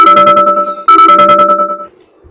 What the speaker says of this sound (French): quelques petites notifications